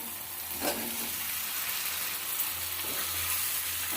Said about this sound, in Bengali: এবার সেদ্ধ করে রাখা আলুটা এর মধ্যে দিয়ে দেবো